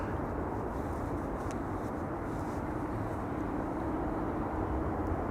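A Singapore Airlines airliner rolls along runway 24 at Schiphol Airport, a steady, distant broadband jet roar that holds evenly throughout with no voices.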